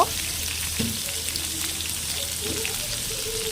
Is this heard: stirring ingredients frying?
yes